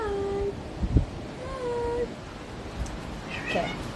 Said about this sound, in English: that's my cat being annoying